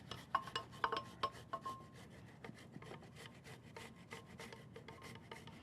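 Fresh ginger is rubbed on a grater in a kitchen. A few sharp rasping strokes come first, then softer scraping continues steadily, close and quiet, with no talk.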